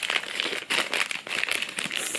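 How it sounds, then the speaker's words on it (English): Crinkling plastic packaging from an unboxing is handled close up, with continuous loud crackling and rustling in uneven bursts and no talk over it. "I can open it in another plastic bag."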